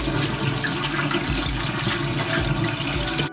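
Running water rinses grease and wax remover off a bicycle chain, a steady close rushing splash with no talk, ending abruptly.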